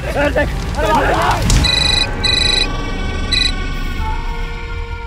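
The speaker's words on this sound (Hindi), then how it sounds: "फोन काहे नहीं उठा रहे थे बे?" A telephone rings with repeated short electronic ring bursts in a domestic drama scene, starting after a man's speech and fading to a faint steady tone near the end.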